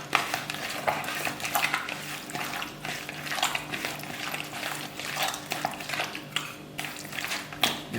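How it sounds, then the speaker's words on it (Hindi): Chicken pieces being mixed by hand in a marinade, with continuous wet squelching and sloshing plus light clinks against a bowl, close and steady throughout. "इसको हम अच्छी तरह कर लेंगे मिक्स। हाथ से भी कर सकते हैं, स्पैचुला से।"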